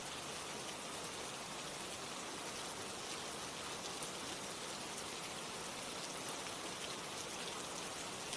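Steady rainfall pours down without pause, a dense, even hiss of drops on surfaces filling the whole stretch at a constant moderate level, with no voices or other sounds.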